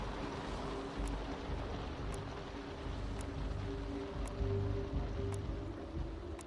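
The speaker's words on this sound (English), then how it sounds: "Just the sound of the waves and the wind." Steady rushing water and wind noise at sea at night, a continuous wash of waves with a low rumble and no voices.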